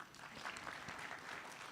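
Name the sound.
graduates applauding at a graduation ceremony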